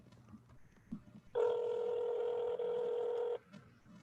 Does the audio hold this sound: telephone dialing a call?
yes